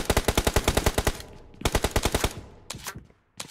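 Automatic gunfire from a shooter video game rattles out in rapid, loud bursts, two long strings of shots followed by shorter ones, with brief gaps between them.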